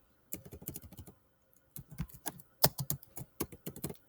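Typing on a computer keyboard, bursts of quick clicking keystrokes close to the microphone with a brief pause before the tapping resumes, no talking.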